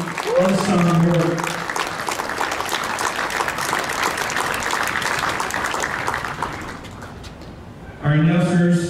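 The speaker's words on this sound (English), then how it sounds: "Let's give them a round of applause." A conference awards crowd claps steadily for staff members, sustained applause at a fairly loud, even level; a voice speaks briefly at the start and again near the end.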